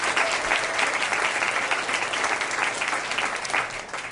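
An audience at a bill-signing event in Oregon breaks into sustained, dense applause, loud and close, clapping continuously and easing slightly toward the end.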